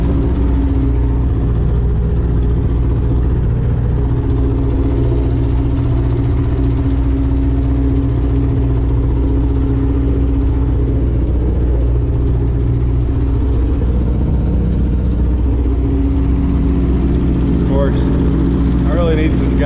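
The loud, low diesel engine of a 1967 Gleaner E combine chugs steadily as it pulls off slowly in first gear, with someone talking over the constant rumble.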